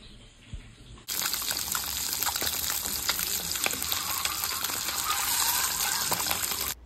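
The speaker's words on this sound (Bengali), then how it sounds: "এই যে মাশরুমটা ভাজা করছি, সেটা থেকে জল বেরোচ্ছে" Mushrooms frying in a pan and giving off their water make a loud, bright sizzle that starts suddenly after a quiet second and continues steady and crackling to the end.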